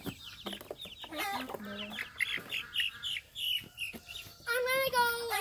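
Several chickens cluck and squawk in short bursts, fairly close, with a busy, overlapping barnyard chatter.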